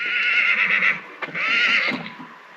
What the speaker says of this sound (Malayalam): കുതിരയാണല്ലോ